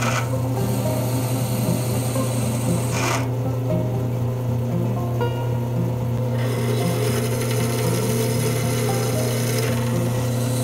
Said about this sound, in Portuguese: Então eu peguei uma broca e fiz o furo de introdução.